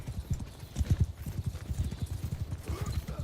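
Many horses gallop in a video game, producing a dense, continuous drumming of hooves that is close and steady throughout, with a faint neigh somewhere in the mix.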